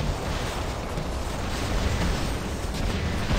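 Loud, dense burst of explosion noise from a destroyed Ophion robot in the War Robots video game, a sustained roaring blast lasting several seconds with no talk over it.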